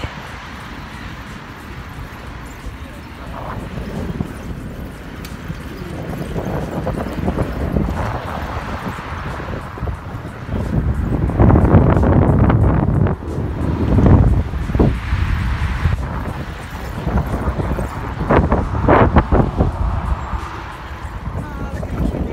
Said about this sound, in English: That nice, sexy wind blowing video.